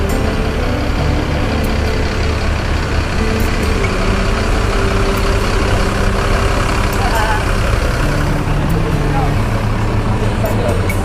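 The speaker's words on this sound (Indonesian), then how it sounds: "Bis ini memakai sasis Mercedes-Benz OH" A Sembodo bus built on a Mercedes-Benz OH 1526 chassis with Laksana bodywork runs its engine at departure. The rumble is loud, steady and close, like a heavy diesel idling, and holds through the whole stretch.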